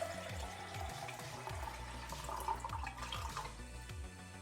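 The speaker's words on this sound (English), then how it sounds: "I'm gonna go ahead and pour the water in." Tap water pouring steadily into a drinking glass, filling it to about halfway, a continuous close splashing trickle heard alone.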